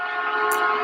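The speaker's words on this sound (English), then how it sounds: "Oh, we got another train coming, of course." A passing train gives off a loud, sustained horn-like tone with steady rumble, close and continuous for the brief moment heard.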